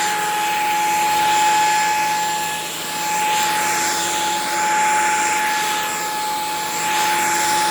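A Shark stick vacuum cleaner runs with a loud steady whine and airy rush, its pitch holding constant while the level swells and dips slightly as it moves, no talking.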